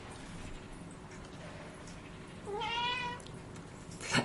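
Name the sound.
cat meowing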